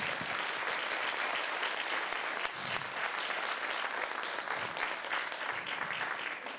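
An audience applauds at MiniFestival 2012 in Vittorio Veneto, a dense, sustained wash of many hands clapping that keeps a steady level from start to finish, heard from within the crowd.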